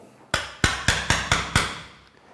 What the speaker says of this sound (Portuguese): eu estou partindo o tronco, ele está abrindo em dois